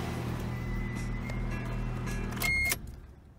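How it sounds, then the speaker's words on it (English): A 1988 Toyota Corolla engine runs at a steady idle after a carburetor adjustment, with a continuous low drone and a brief louder burst near the end before it drops away. "So this is how the car sounds after they adjusted the carburetor."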